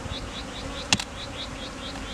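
Honeybees buzzing steadily around one of five beehives on an industrial packaging site, a dense close drone with a brief louder pass of a single bee near the middle.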